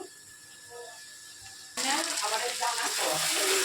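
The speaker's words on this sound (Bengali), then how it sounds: "তো এটাকে একটু আমি লাল লাল করে ভেজে নেব।" Taro stolons fry in a pan until reddened. The first half is quiet with faint kitchen noise, then a loud, bright sizzle suddenly takes over and carries on steadily to the end.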